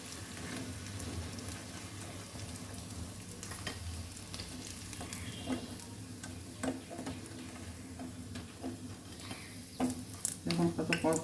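Pumpkin leaf fritters stuffed with ginger and lentil paste sizzle in hot oil, a steady crackling hiss dotted with sharp pops and ticks that grow busier toward the end as pieces are stirred and lifted out.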